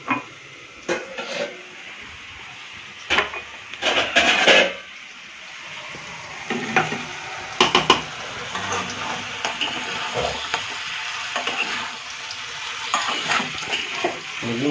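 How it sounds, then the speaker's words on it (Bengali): Potatoes fry in a pan for a chicken curry, a steady sizzle broken by repeated stirring scrapes and clattering utensil knocks. "এদিকে আলু ভাজা চালু হয়ে গেছে"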